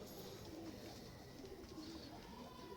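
A breeding pair of Teddy cross pigeons cooing softly, with low, repeated throaty coos over a steady, faint background hum.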